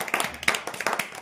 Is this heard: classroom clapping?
yes